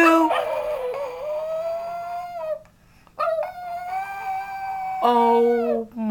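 A chihuahua howling along to a sung birthday song, long rising and falling wails close by, pausing briefly before howling again with the singing.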